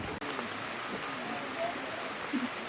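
Rain falls steadily outdoors, a soft, diffuse patter that stays faint and even, with a few brief clicks and faint background sounds.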